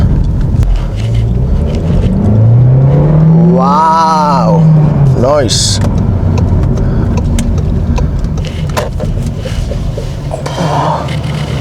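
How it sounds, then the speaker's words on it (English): A VW Golf 1.5 TSI hatchback on a test drive gives a steady cabin drone of engine and road noise throughout, with a passing whoosh partway through and a brief spoken exclamation. "Just taking the car for test drive."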